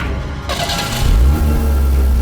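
An old car's engine catches after a push start on a deserted road, a low rough rumble that swells and then settles into a loud, steady run.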